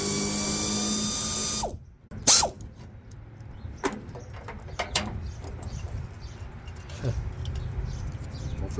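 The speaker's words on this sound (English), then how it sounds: "gonna get those bolts off" Ratchet working on fender bolts of a 1969 Chrysler 300, a rapid mechanical clicking whir that cuts off, followed by sparse metallic clicks and taps in a quiet garage.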